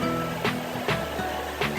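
Loud, continuous rushing water of a waterfall in Munnar roars steadily after rain, with a few brief bursts of splashing across the short stretch.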